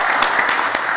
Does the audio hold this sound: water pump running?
no